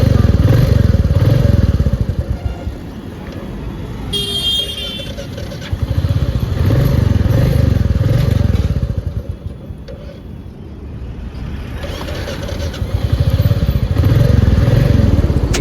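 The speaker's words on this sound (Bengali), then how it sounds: "এই যে স্টার্ট করে ছেড়ে দিচ্ছি, এক্সিলেটারটা ছাড়লেই বন্ধ হয়ে যাচ্ছে।" A Royal Enfield Meteor 350 single-cylinder engine with a throttle body fault, a loud close thumping idle that surges with throttle, sags and nearly dies, then picks back up in uneven waves.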